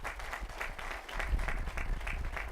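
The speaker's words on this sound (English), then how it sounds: "Please give a round of applause to Fred Farias." An audience at the Texas A&M Higher Education Center grand opening in McAllen applauds Fred Farias, steady, moderately loud clapping from many hands that continues through the short stretch without a break.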